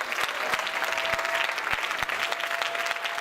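An audience at a French-language evangelical church conference applauds warmly, with dense, steady clapping from many hands and a few louder individual claps standing out close by throughout.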